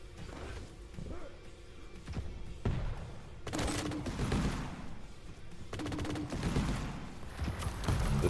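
Rocket launches, explosions and rapid weapon fire from a Quake Champions match, a dense stream of blasts and impacts that swells loudly in the second half, with a commentator's voice running faintly underneath.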